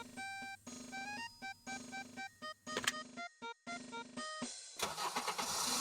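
A synthetic video game car engine, used as a tank's engine, sputters and cranks in choppy bursts, tonal and stuttering, then catches and roars into a louder, rougher run near the end.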